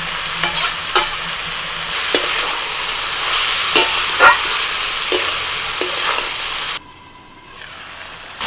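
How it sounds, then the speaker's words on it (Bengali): Prawns seasoned with salt and turmeric frying in a pan for a pumpkin dish, loud continuous sizzle and hiss with repeated scraping stirs, then a sudden near-silent pause before the sizzle returns. "খানিকটা নাড়াচাড়া করে চিংড়ি মাছটা দিয়ে দিলাম।"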